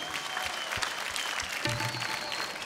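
A TV comedy competition audience claps in a steady, even round of applause. It stays continuous and moderately loud for the whole stretch, with a faint voice briefly underneath.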